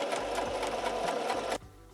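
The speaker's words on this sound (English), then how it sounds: "And go ahead and sew the other side too." Sewing machine stitching layered fabric for a reversible face mask: a steady, close, continuous motor whir with rapid needle rhythm, stopping abruptly near the end and leaving quiet room tone.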